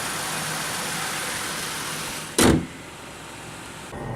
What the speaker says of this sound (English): So as you can see, it's just a good sounding engine overall.